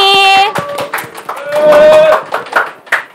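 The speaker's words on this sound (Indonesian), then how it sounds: "Tepuk tangannya dong Dulur Tani." An audience of farmers claps at an agricultural training event on an Indonesian farming programme. Loud, dense clapping runs under and between a host's voice and tonal music.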